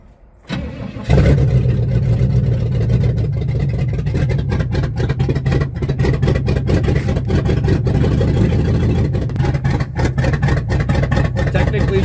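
Idling engine of a 1968 Pontiac LeMans with a freshly replaced fuel pump, catching after a brief start attempt and then settling into a steady, close, loud rumble that stays even to the end.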